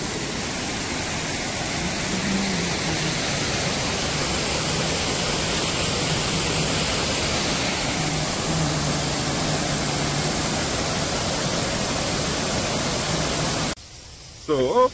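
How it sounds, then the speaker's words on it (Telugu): Heavy waterfall beside a road in Oregon roars as a dense, steady rush close by, with a faint low tone drifting through, cutting off abruptly near the end. "బట్ చూసి మాకు జస్ట్ హెవీగా వస్తున్న వాటర్ ఫాల్ ఉంది కదా"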